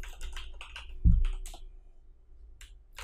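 Computer keyboard typing HTML code, a quick run of close key clicks with one heavier thump partway through, then a few scattered taps after a pause, no voice.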